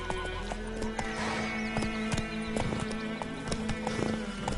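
Roach, a horse in The Witcher 3 video game, gallops with quick rhythmic clip-clop hoofbeats and lets out a clear neighing whinny, fairly close and alone without talk.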